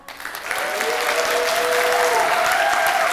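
A school concert audience applauds a choir at a fall choral performance: clapping swells in after a brief moment and holds steady and full, with a faint sustained tone running beneath it.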